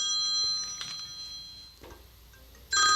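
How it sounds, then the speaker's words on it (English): Studio telephone in a radio podcast studio rings with an incoming call, a bright electronic tone that repeats twice with a pause between, close and fairly loud. "now you're hearing the phone come in"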